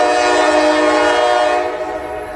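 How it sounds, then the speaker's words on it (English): A new CSX freight locomotive sounds a long, loud, sustained horn close by as it approaches an intersection, the steady chord holding for the whole stretch and fading slightly near the end. "he's coming to an intersection, that's why he's blowing"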